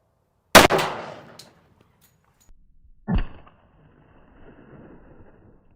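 A 10mm bullet fired at a steel anvil: one sharp, loud gunshot crack with a ringing decay, then a second, softer impact-like burst a few seconds later, with quiet between.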